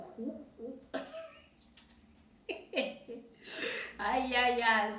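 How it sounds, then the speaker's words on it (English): A few sharp coughs from a person with Omicron COVID-19 come in bursts, mixed with a throat-clearing sound and a short chuckle-like voiced noise near the end. "So that kind of random cough, like that's the cough I was experiencing."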